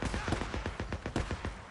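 Gunfire in the video game Days Gone: a rapid burst of about a dozen sharp shots in quick succession, fairly faint and somewhat distant, over muffled background noise.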